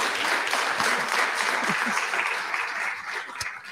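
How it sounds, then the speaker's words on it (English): Audience applause for the second speaker at a book talk on bridges of the Mid-Hudson Valley: a steady, dense wash of clapping from a crowd, fairly loud throughout and tapering slightly near the end. "how about a round of applause for our second speaker?"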